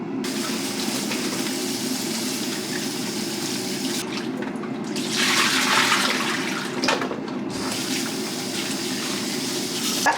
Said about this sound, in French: j'ai fini de nettoyer mes pommes de terre